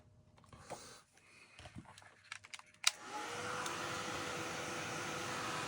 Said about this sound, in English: So just give it a quick blast with your heat gun.